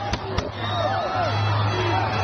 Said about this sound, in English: I believe that was a gun.